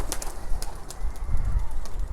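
A pair of doves cooing up close, soft low coos repeating among light rustling and faint background sounds.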